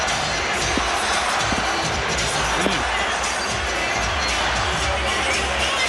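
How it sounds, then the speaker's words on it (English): A loud basketball arena crowd at a 1993 Bulls vs Cavaliers playoff game roars steadily, with chanting and shouts blending into a constant wall of noise. "Listen to the crowd. They're hollering, "We want Price."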